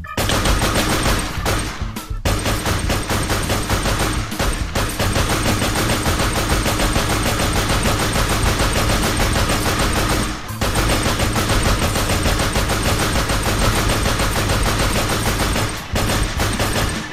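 Relentless automatic gunfire in a video game pours at a snowman, loud and nearly continuous with only brief gaps, no voices over it.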